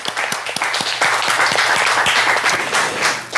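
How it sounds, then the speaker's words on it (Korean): A church congregation applauds loudly during a Korean Sunday thanksgiving service, many hands clapping in a brisk, fairly regular rhythm close by, with no talk. "하나님께 영광의 박수"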